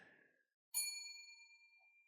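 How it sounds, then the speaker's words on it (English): A single bell is struck once, ringing out clear and bright with a long, slowly fading sustain after a short silent pause. "I want you to hit that bell if I get the card right"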